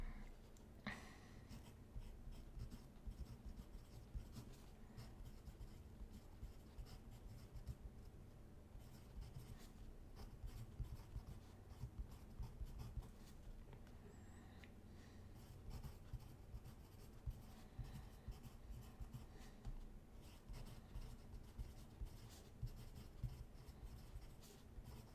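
Pen or marker writing notes during a circuits lesson on voltage, a steady faint scratching and rubbing of strokes that runs continuously and quietly, with no talking.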